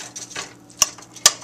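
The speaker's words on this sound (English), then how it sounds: "And then we're going to let this fry and keep stirring." Fried rice being stirred in a frying pan, with two sharp utensil clinks against the pan over a low background sizzle.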